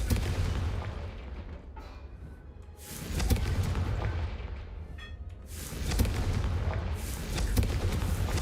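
Confringo spells cast in Hogwarts Legacy, heard as several loud, booming blasts about every three seconds with crackling tails, close and filling the mix over constant low rumble.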